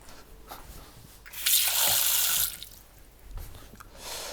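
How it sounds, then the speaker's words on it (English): Tap water runs into a pan holding white wine vinegar and sugar, a loud one-second gush of pouring with faint clinks before and after in a quiet kitchen. "and then top that up with some water."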